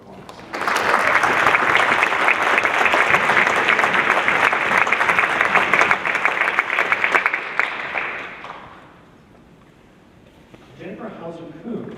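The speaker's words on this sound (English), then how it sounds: "let's give him a round of applause." At a university fall awards ceremony, an audience bursts into sustained, loud applause for an absent honoree, holding steady for several seconds before fading out, followed by a faint voice.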